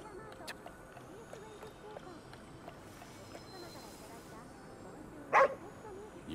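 A dog barks in the PS5 game Ghostwire: Tokyo, giving one short yip-like bark near the end over a low, quiet game ambience with faint background sounds.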